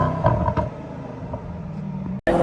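2022 Mercedes-AMG GLE63S Coupe V8 in Sport Plus, a loud close engine rumble with a couple of blips, cut by a brief dropout before the roar returns.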